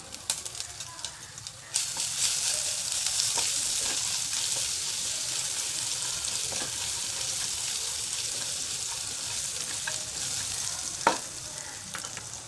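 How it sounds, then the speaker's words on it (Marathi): Ginger garlic paste drops into hot oil with mustard seeds in a heated kadhai, bursting into a steady loud sizzle after a quieter start, with occasional stirring clinks and faint birds in the background. "मोहरी तडतडल्यानंतर आलं लसूण पेस्ट घालायची तुम्ही"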